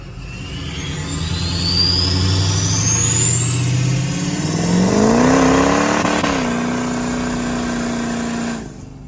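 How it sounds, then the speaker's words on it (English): A diesel car revs hard during a burnout, its engine climbing steadily in pitch to a loud high whine as the tires spin, then holding and dropping off sharply at the end, heard close and loud throughout. "if it's got a little burnout in it"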